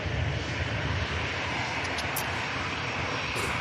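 An EasyJet airliner arriving at Manchester Airport makes a steady, broad engine roar that holds at an even, fairly loud level throughout, with no voices.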